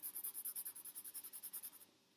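A pencil is worked on its side across paper, shading a still-life vase drawing with about fifteen quick, even back-and-forth scratchy strokes, close and soft, then stopping.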